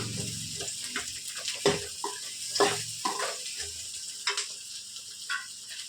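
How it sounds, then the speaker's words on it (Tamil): Onions, garlic, cashews and whole spices such as cinnamon and cloves sauté in a pan, giving a soft, quiet sizzle. Intermittent scrapes and clinks of stirring punctuate it. "வெங்காயமும் பூண்டு, முந்திரி, பட்டை, கிராம்பு எல்லாம் நல்லா வதங்கட்டும்"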